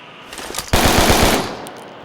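A sudden burst of rapid automatic gunfire from a video game, a quick string of close, loud shots that cuts off after under a second.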